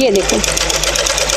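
A sewing machine stitches a folded L-shaped fabric strip for a frock with a fast, even, close mechanical whir. A voice speaks briefly over it at the start.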